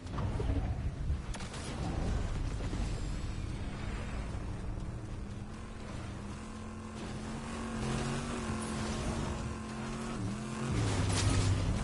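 A Fortnite car drives for several seconds, its engine droning close and steady with shifting pitch, and a brief tire screech near the end.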